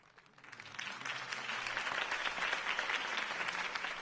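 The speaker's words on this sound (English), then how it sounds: "If only Mr. Wayne, my campaign's largest backer, could have heard that applause" Crowd applause for a political campaign speech in a Batman video game swells from a soft start into sustained, dense clapping that fills the space, with faint voices mixed underneath.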